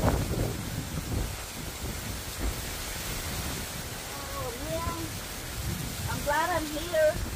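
Steady rain hisses continuously as a storm comes in, with gusty rumbles and a few faint chirps or voices near the end.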